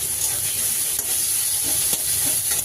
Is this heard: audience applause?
no